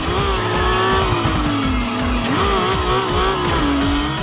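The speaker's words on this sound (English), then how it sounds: "comic-styled effects accentuating the car's tire screeches and engine rumbles" Racing car engine in the anime-styled game Asuka Cross Redline Reverie rumbles and revs continuously with rising and falling pitch, while tires screech and skid loudly throughout, dense and close with no talking.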